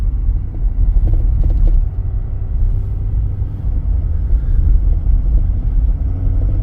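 A vehicle on Yokohama Geolandar X-AT all-terrain tires, in two-wheel drive on a hill, makes a loud, continuous low rumble of engine and road noise from inside the cab.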